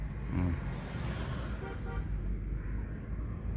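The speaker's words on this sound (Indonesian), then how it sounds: "Lepas gas, injak kopling, langsung oper ke gigi 2" A manual car being driven while the clutch is pressed and the gearbox shifted into second gear, heard as a steady, close engine and road rumble with a few brief tonal notes early on; no talking.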